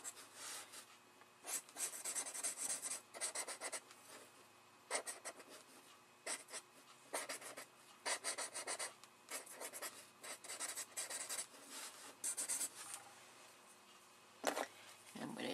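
A graphite pencil scratches across watercolor paper in close, repeated rasping strokes, bursts of sketching separated by brief pauses.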